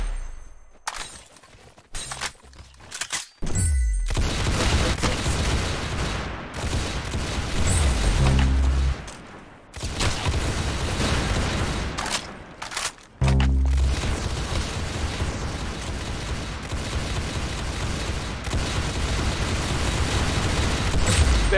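Gunfire in the Roblox game Arsenal, dense bursts of loud shots and booms from close by, broken by a few brief lulls.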